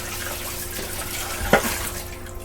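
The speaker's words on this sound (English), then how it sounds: "Just going to give this bowl a quick rinse." A bowl is rinsed under a running kitchen tap, with a soft steady stream of water and a brief splash and clatter midway.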